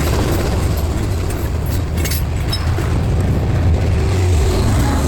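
A steady, loud rumble with broadband roar, like a train rolling past nearby, continuous throughout without a clear approach or fade.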